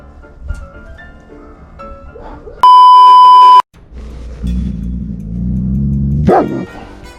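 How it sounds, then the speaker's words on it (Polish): German shepherd Major answers another dog with a low, drawn-out bark and growl that ends in a sharper yelp, following a loud electronic beep; no one speaks. "Major odpowiedział właśnie na szczekanie innego psa."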